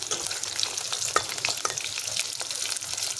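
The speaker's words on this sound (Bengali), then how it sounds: "ভালো করে ভেজে নেব" Chicken pakoras fry in hot oil with a dense, crackling sizzle, close and steady throughout with sharper pops scattered across it.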